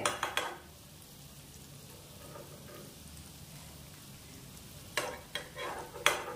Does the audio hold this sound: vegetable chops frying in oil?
yes